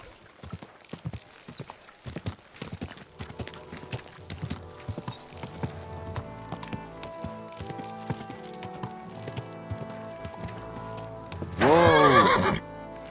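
A horse in the video game Kingdom Come: Deliverance 2 clip-clops in steady hoofbeats over game sounds, then gives a loud, close neigh near the end.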